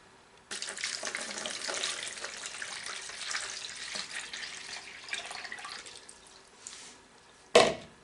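Cold water for a homemade sausage cure runs steadily from a kitchen tap for several seconds, a continuous splashing hiss that eases toward the end, followed by a short sharp clatter.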